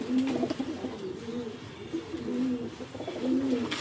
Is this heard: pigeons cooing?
yes